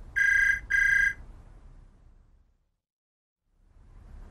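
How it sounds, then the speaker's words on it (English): A telephone rings indoors in a home with two clear, bright trills in quick succession. Silence follows, then a faint hum returns. "The phone is ringing."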